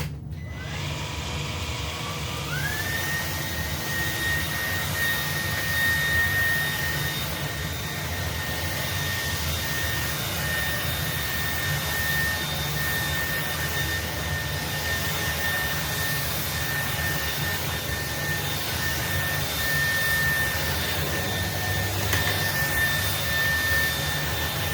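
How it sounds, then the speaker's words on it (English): A Dreame stick vacuum cleaner spins up to a high, steady whine and holds it while sucking up dirt, loud and close, with a constant airy roar underneath and no voices. "Now let's see if I have a stick vac that can pick that up"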